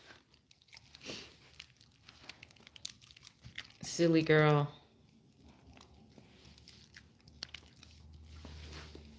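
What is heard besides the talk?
husky dog chewing on a toy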